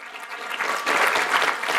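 Applause from an audience at a youth presentation event in Abu Dhabi, a dense continuous patter that swells louder partway through and holds steady, with no voices over it.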